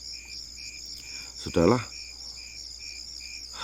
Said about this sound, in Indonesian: Lagi-lagi hanya suara jangkrik yang terdengar keras.